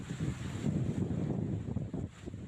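Strong wind during a rainstorm in the Pantura area of Ciasem, Subang, roars steadily and buffets the microphone in a continuous low rumble, with no voices.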